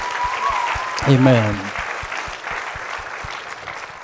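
Warm applause from a church congregation for a graduating class, with steady clapping through the whole stretch and a voice calling out briefly over it.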